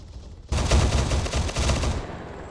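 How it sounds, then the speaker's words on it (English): Automatic gunfire in Squad, aimed at incoming tracers during a convoy, bursts in loudly after a quiet start as rapid, dense volleys of shots that run for about a second and a half before dropping back to a low rumble. "I'm shooting at the tracer that was coming at us"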